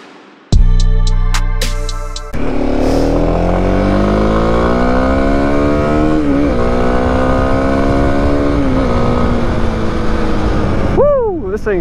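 A Kawasaki KLX 250 motorcycle engine starts with a sharp burst, then idles and revs in a few rising and falling swells nearby, loud and steady throughout.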